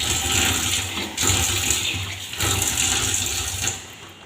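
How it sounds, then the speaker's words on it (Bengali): Water is poured a little at a time into batter as it is mixed, giving a steady, loud splashing and running-water rush that briefly dips twice before tapering off at the end. "ওরকমভাবে আমি একটু একটু করিয়া জল দিব আর ব্যাটারটা তৈরি করব।"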